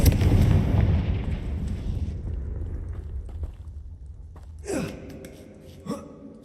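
A Confringo spell in a video game sets off a loud blast that rumbles and fades over several seconds, followed by two smaller bursts near the end.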